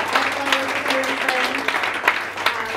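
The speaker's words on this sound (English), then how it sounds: "a really big round of applause to Matt." A wedding reception audience gives a round of applause after the speeches, steady dense clapping heard close and loud throughout, with voices murmuring and a faint tonal hum underneath.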